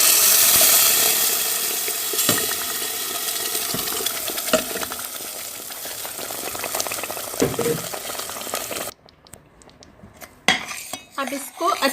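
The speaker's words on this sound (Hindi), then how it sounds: "अच्छी तरह मिक्स करने के बाद हम इसमें ब्लेंड पालक डालेंगे" Blended spinach being stirred into a pan with a spoon, metallic clinks and scrapes against the pot over a wet bubbling background, followed by a quieter stretch of sharper clatters near the end.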